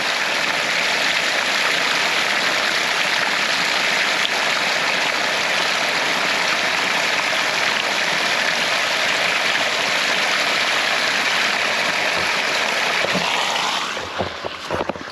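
Rainwater rushes steadily out of an off-grid harvesting tank as it is drained quickly, a loud continuous gushing roar that stays even for most of the stretch, then thins and sputters near the end.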